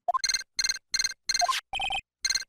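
A transceiver rings in the Ace Attorney video game with a synthesized electronic ringtone: repeated short chiming bursts, each made of quick pulsing tones with brief silences between them, loud and clear, with no talking.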